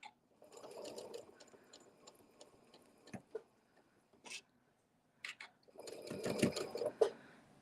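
A sewing machine stitches a quilt binding along a drawn line, its rapid mechanical whirring running in bursts with pauses and a louder stretch at the end, close and fairly quiet.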